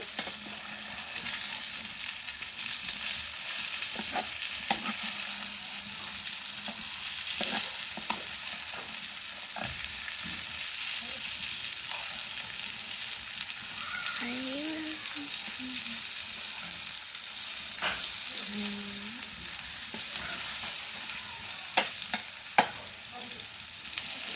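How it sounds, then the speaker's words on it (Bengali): Lentil fritters (bora) fry steadily in hot oil, a continuous close sizzle running throughout with occasional clinks and scrapes as they are turned, and brief faint voice sounds in the background. "এই বড়াগুলো ভাজলেই আমার রান্না শেষ"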